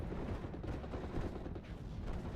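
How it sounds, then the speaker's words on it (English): Artillery fire in the WWII strategy game Steel Division Normandy 44 during fighting in Normandy hedgerows: a dense, continuous barrage of overlapping booms and rumbling blasts, loud and unbroken throughout. "Pull in more artillery."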